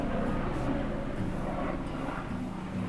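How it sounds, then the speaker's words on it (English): Police helicopter passing overhead at a distance, a faint, steady droning engine and rotor hum that stays level throughout. "It's a police helicopter."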